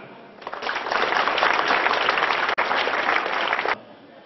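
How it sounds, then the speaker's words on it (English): A college freshers day audience claps together in a hall, a dense, sustained burst of many hands that swells quickly, holds for about three seconds, then stops abruptly. "I request all of you to give a clap."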